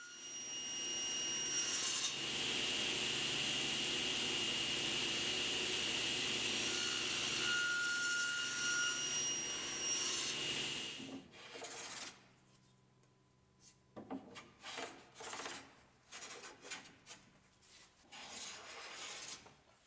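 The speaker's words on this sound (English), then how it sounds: "I do a little hand planing and cleanup to ensure that this work stand looks as good as I do" A wooden work stand being hand planed and cleaned up: a long, continuous scraping rasp of blade on wood for about ten seconds, then quieter intermittent strokes and rubbing.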